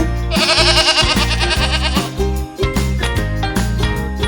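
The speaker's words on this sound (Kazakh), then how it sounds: "Ешкі." A goat gives a wavering, quavering bleat at the start, loud and close, with light music playing underneath.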